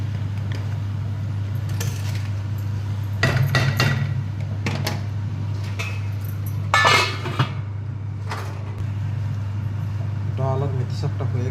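Moong dal and fenugreek greens are stirred in a pot, with scattered metallic scrapes and clinks of a spoon against the vessel over a steady low hum, while someone talks.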